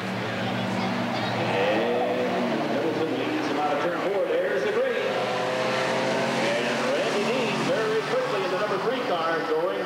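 Mini stock race cars compete at Redwood Acres Raceway in 1989. Several engines roar continuously, revving and shifting in pitch as the cars pass, while an announcer talks over the noise throughout.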